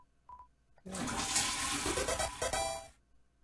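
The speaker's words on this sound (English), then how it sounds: "It's a toilet. Flush it." A toilet flush sound effect from the Deltarune video game follows a short electronic blip. The rushing, gurgling water swell runs for about two seconds, then cuts off cleanly.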